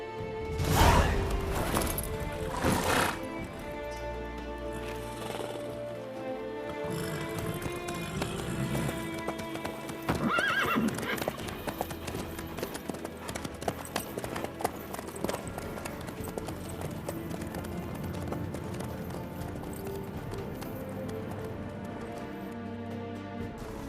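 Horse hooves clip-clop at a steady running pace in The Witcher 3 open-world game, with a heavy thump early on and game music and ambience layered beneath; no neighing stands out.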